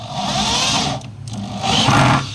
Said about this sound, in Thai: เสร็จแล้วเราค่อยยิงนะครับน็อตนี้มันจะยิงง่ายนะครับ